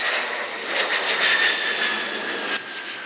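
A passenger airplane on the Moscow–Saratov flight lands at Saratov airport, its engines giving a steady, loud jet roar with no voices.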